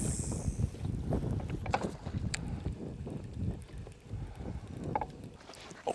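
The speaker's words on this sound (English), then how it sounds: "that wind feels good" Wind gusting outdoors on a fishing trip, a soft, steady rush with low rumbling buffets against the microphone, fairly faint and continuous, with a few small knocks and splashes mixed in.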